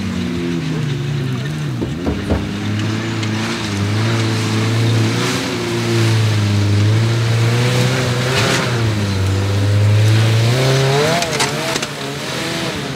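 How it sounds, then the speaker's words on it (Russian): All-wheel-drive off-road cars grind through a swampy stretch of an Amur trophy raid, engines close and loud, revving and straining with rising and falling pitch over churning mud and water, with no speech. "как водители на полноприводных автомобилях преодолевали непроезжие участки"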